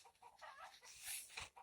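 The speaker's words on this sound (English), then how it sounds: "Chickens are going crazy." Agitated backyard chickens cluck in a faint, distant flurry of short, scattered calls, with no talking over them.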